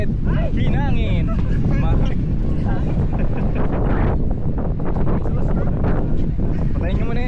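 Steady wind buffets the microphone outdoors in a constant roar during a basketball game in Amarillo, Texas, while people talk and shout over it throughout.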